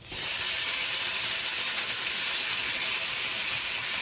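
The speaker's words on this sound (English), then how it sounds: "So you want to sear it on a reasonably high heat, although it's still medium, on both sides." Thin marinated meat sears in a preheated cast iron pan over medium-high heat, giving a loud, steady, even sizzling hiss that holds without a break and with no talking.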